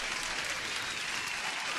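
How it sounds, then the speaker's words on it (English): Dense, continuous applause from a crowd, a steady even wash of many clapping hands with no voices over it, played to welcome a new viewer on a live trading stream. "huge applause for Greg, who's new to the channel"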